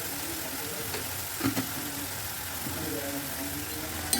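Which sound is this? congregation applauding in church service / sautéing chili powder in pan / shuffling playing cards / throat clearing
sautéing chili powder in pan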